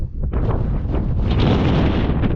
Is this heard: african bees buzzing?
no